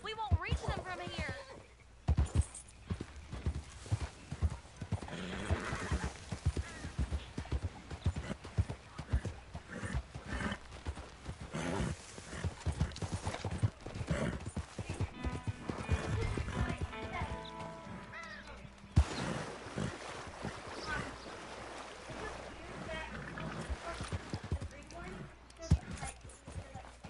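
Rapid hoofbeats pound in a steady galloping rhythm in Red Dead Redemption 2, with a horse whinnying partway through and voices talking over the running.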